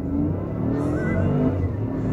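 A supercharged Cadillac Escalade accelerates hard, its engine a loud, sustained rising drone heard from inside the cabin over a couple of seconds.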